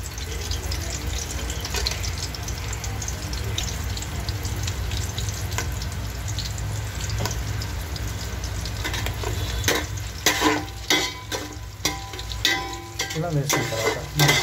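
Spices added to a pan and mixed for Hyderabad-style biryani, a steady frying sizzle with scraping stirs that grow busier and more clattery toward the end, close and fairly loud.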